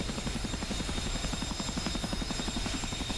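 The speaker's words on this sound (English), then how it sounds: "here's the Chinook" A Chinook helicopter in a flight simulator game, its rotor beating in a steady rapid chop under a continuous engine whine, loud and constant with no voices.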